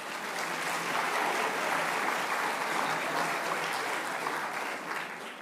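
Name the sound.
audience applause at high school awards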